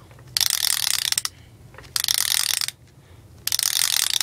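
The pullback motor of a K'NEX Donkey Kong Standard Kart is wound back in three separate bursts of rapid, loud ratcheting clicks, with short quiet pauses between them. The clicks are close and heard on their own without any voice.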